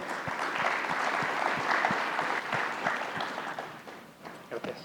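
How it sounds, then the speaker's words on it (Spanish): An audience at a mining innovation panel applauds as a speaker is welcomed, moderate clapping with distinct individual claps that thins out toward the end, a voice briefly audible near the close. "Pido un aplauso para David."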